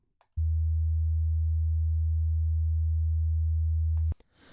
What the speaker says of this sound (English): that's a low frequency sine wave there at 80 Hertz